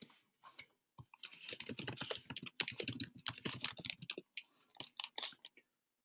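Close computer keyboard typing for a chat message, an irregular run of crisp key clicks in quick bursts with short pauses, alone in a quiet room.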